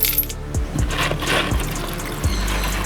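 Coins clink and rattle as they are rinsed in water, with sloshing liquid and a few metallic knocks at a steady close level.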